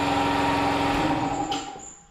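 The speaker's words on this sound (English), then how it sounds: "Don't you love a air compressor kicking on right when you're videoing?" An air compressor hums in a workshop, a dense steady whine with a low droning motor under it, ending in a brief clatter before the sound falls away and fades.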